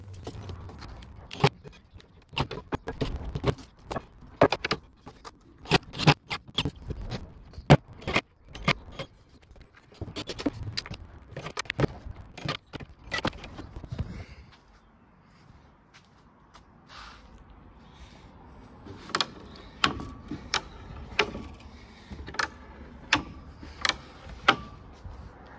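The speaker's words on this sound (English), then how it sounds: "These lock into place when folded out and fold up using a tab release" Wooden folding camper van table legs being locked into place and folded up with a tab release, giving a long run of sharp clicks, knocks and rattles, dense at first, then a quieter stretch before sparser taps resume; no talk.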